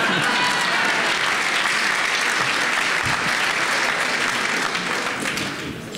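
An audience at a televised ninetieth birthday celebration applauds loudly and continuously, a dense crowd of clapping hands that tapers slightly toward the end, with some speech mixed in.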